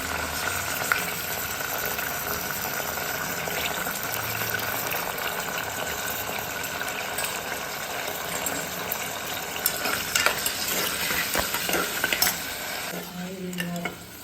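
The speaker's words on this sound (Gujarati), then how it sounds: "આપણે રાઈ નાખી દીધી છે, જીરું પણ નાખીએ કાઢવાનું છે, એટલે મેં રાઈ નાખી દીધી અને હિંગ હવે નાખીશું." Mustard seeds crackle and sizzle in hot oil in a pan for a brinjal sabji, a steady close frying hiss with scattered pops and a little stirring near the end, no talk.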